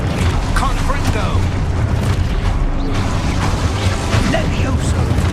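Fiery Confringo spell blasts in Hogwarts Legacy go off amid a steady, loud roar of combat effects, with bursts and booms packed close together.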